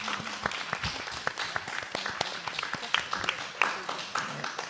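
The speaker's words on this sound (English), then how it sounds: "You can give them all a round of applause now." Scattered clapping from the audience at a school board candidate forum, a loose run of individual claps with some murmuring voices mixed in.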